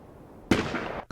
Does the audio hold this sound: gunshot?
yes